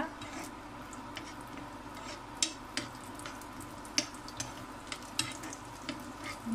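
Cashews and black raisins fry in ghee in a pan, giving a soft continuous sizzle broken by sharp clicks and scrapes of stirring.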